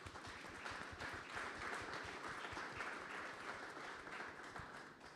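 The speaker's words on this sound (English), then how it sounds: "I just want to give an applause for my team" A meeting audience at the Spokane Homeless Coalition gives a round of applause for a team, a continuous, even patter of many clapping hands, fairly faint and distant, sustained for several seconds without speech.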